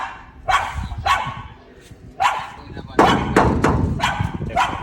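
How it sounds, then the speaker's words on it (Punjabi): A dog barks repeatedly in sharp, loud bursts close by outside a house gate, the barks coming in irregular clusters over background murmur. "ਤੇ ਕੁੱਤਾ ਭੌਂਕ ਰਿਹਾ"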